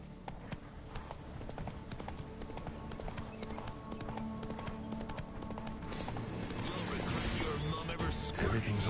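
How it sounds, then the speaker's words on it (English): Horse hooves clip-clop in a steady galloping rhythm in The Witcher 3 video game, loud and continuous throughout, with game music and ambient noise underneath. "Run, Roach."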